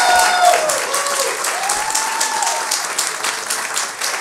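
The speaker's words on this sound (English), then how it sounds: "Let's get one more round of applause for tonight's storytellers" An audience at a live storytelling show applauds in a dense, steady burst of clapping that stays loud for several seconds and fades slightly at the end, with a brief voice faintly under it early on.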